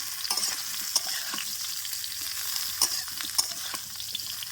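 Half-ripe sour mango pieces are stirred in a pan for a spiced tangy mango pickle, with a steady soft sizzle and intermittent sharp spatula clicks against the pan.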